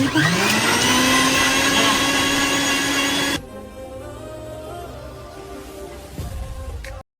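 Mixer grinder whirring loudly as it blends food, a steady high motor drone that drops in pitch partway through and keeps running more quietly until it shuts off.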